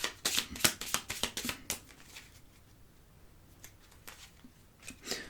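Tarot and oracle cards handled at a table, a quick burst of crisp card flicks and taps in the first two seconds, then a quiet pause before a couple of softer placements near the end.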